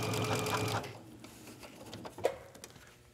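A sewing machine runs in a fast, steady whir for about a second, stitching fabric into ruching gathered with a fork. Then come quieter scattered clicks and handling sounds.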